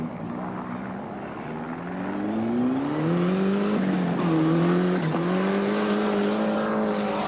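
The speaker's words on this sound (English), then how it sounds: "And that's Ross Meekings on the course now, who leads the Group N challenge." A Group N rally car on the course at the 1991 Rally New Zealand, its engine droning loudly and climbing in pitch, with two brief dips like gear changes before revving on steadily.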